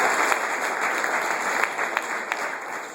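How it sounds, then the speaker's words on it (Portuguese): A church congregation claps in praise during a Nazarene worship service, a steady, fairly loud wash of many hands with occasional sharper claps standing out, heard without speech. "Aplauda ao Senhor"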